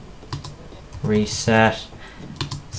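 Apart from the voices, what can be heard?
typing on computer keyboard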